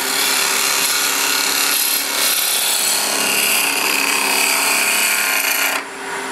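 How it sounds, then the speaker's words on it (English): A woodturning gouge cuts into the end grain of a spinning bowl blank on a lathe, a loud, continuous rasping hiss close up that shifts slightly in tone before cutting off near the end. "So we start out cutting directly into end grain."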